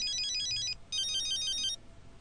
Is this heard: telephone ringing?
yes